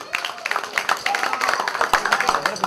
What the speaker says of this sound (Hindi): एक बार जोरदार तालियां हो जाए आप सबकी।